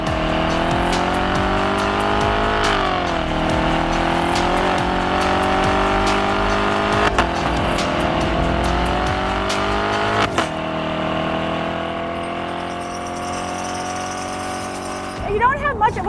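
A 2019 Corvette Stingray Convertible's engine revs and pulls hard on the road, a loud sustained drone whose pitch climbs and dips through gear changes, with tire noise under it and a brief burst near the end.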